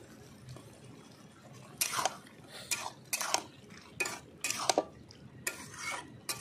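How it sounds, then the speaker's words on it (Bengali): Mixed vegetables (broccoli, peas, carrot, beetroot and green tomato) are stirred in a cooking pan with a spoon, giving six or so rhythmic scraping strokes close by over a soft sizzle. "ভালো করে আমি নাড়িয়ে নিচ্ছি"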